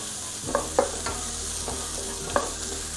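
Onions for beef kumbanadan sauté in a pan with a constant close sizzle, broken by a few light scrapes and taps of a spoon stirring, and no talking.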